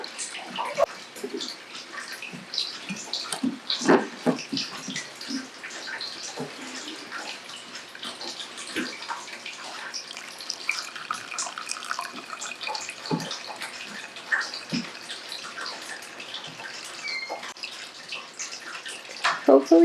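Homemade dandelion coffee trickles steadily from a pot into a cup through a strainer, a soft continuous watery pour that runs for the whole stretch, close by and fairly quiet.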